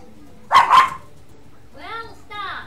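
A pair of dogs barks indoors, two loud, close barks in quick succession, followed after a short pause by fainter whining or yelping calls.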